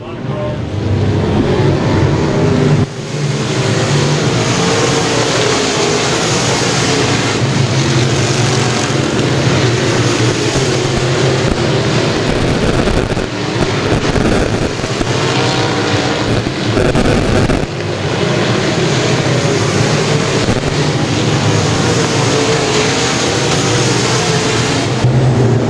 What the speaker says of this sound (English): the final race of the night. And a caution field pro mod main event